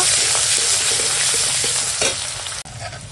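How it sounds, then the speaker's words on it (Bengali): Onions frying in oil sizzle loudly and steadily at close range, with light stirring scrapes, easing off slightly near the end. "ওই তেলেই এখন দিয়ে দেবো পেঁয়াজ"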